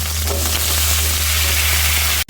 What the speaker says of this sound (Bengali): আমি কেটে রাখা আলুগুলো ভেজে নেব